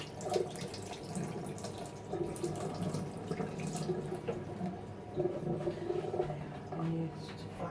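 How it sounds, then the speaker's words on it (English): Tap water runs steadily into a kitchen sink as hands are rinsed during home cooking, a continuous soft splashing wash with faint drips, heard close and alone. "Rinse my hands off."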